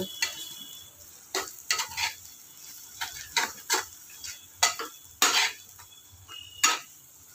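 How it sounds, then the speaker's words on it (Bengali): Chili, turmeric and roasted cumin-coriander powders stirred in a sizzling pan for a fish kopta dish, with repeated close scraping and clinking strokes of a spoon over a low continuous sizzle, no talk. "ভালো করে আমি নেড়ে নেব"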